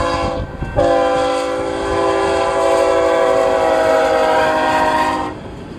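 An eastbound BNSF freight train on the Wichita Falls Subdivision in Texas sounds a long, loud, sustained multi-tone horn blast close by, over the rumble and clatter of the passing train.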